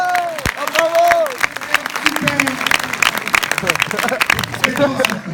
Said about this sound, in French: vous voulez qu'on vous applaudisse?